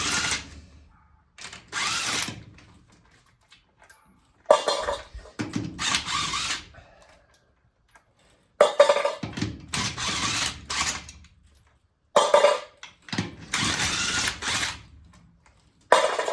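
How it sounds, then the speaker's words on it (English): Bursts of an impact wrench spinning lug nuts off a car wheel during a tire change, four loud whirring rattling runs of a couple of seconds each separated by short quiet pauses. "I have an impact wrench and I'm just going to slide down here and I'm going to take the lug nuts off"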